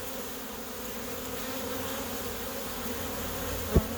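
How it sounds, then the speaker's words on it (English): A steady, close drone of honey bees at a hive entrance in Portland, Oregon, busy with foragers and drones, ending with a short thump. "With this many bees going in"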